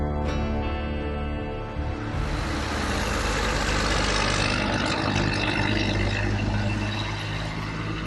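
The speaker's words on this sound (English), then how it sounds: "That's something we haven't heard for a while. Traffic noise." Steady traffic noise in the town of Lee Vining at dawn, a continuous low rumble of car and truck engines passing at a distance, with no one speaking.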